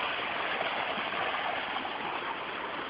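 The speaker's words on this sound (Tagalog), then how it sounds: "Tingnan nyo po yung umaagos sa tubig." Water in a stream flows steadily near a curve in its course, a continuous broadband rush that stays loud and even throughout with no voices over it.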